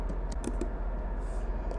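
Typing on a computer keyboard while searching a journal list in an Excel file: a quick cluster of sharp, close key clicks early on, then sparser taps over a low steady hum.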